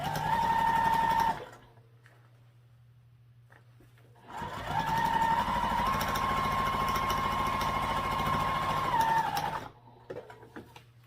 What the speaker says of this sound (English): so you'll want to back stitch at the bottom